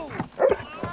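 A dog in an animated Heidi cartoon gives a couple of short, close barks, quick and yappy, with a brief voiced sound between them.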